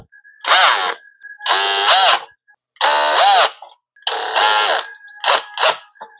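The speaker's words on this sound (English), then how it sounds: "let's undo those screws" Screws are undone on a Makita SP6000 plunge saw: four loud, close bursts of whining motor, each about a second long with short pauses between, then a couple of brief quick blips at the end.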